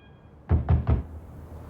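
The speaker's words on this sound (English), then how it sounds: "Ryan Gosling knocks on her door to coax her out" Three firm knocks land on a door in quick, even succession, close and fairly loud, followed by a quiet room with no voices.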